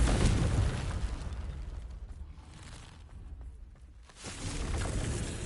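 A Confringo fire spell bursts in Hogwarts Legacy, a loud explosive whoosh opening the clip that fades and then swells again near the end, with no talk.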